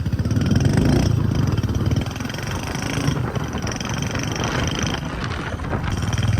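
A Honda Activa scooter engine runs steadily and close by at a fair-sized fair, a continuous mid-pitched hum with slight revving swells throughout, mixed with background crowd bustle.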